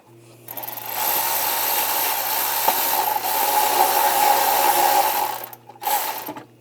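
A 13mm socket tool loosening the exhaust clamp bolt on a Chevrolet Trax during catalytic converter replacement: a loud, continuous mechanical whirring grind lasting several seconds, then a short pause and a brief final burst, with no talking.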